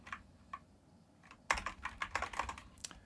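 Computer keyboard typing while objects are grouped in an SVG editor, a few isolated keystrokes early on, then a close, rapid burst of clattering key presses with no talk.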